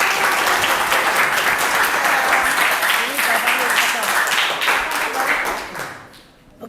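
Students in a classroom clap together in dense, lively applause that holds steady for about five seconds, then tapers off and fades out.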